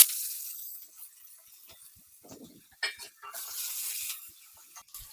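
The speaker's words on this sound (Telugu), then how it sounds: "అవి చిటపటలాడుతున్నప్పుడే ఇంగువ, తర్వాత ఇలా పొడుగ్గా తరగబెట్టుకున్న ఉల్లిపాయ ముక్కలు." Asafoetida and long-sliced onions dropped into hot oil where mustard and cumin seeds are already spluttering, giving a quiet, broad sizzle with faint stirring clinks and a few soft knocks in a home kitchen.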